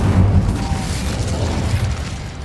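Incendio fire spell cast in Hogwarts Legacy, a loud low booming burst of flame that rolls on steadily for a couple of seconds without fading, with no voices over it.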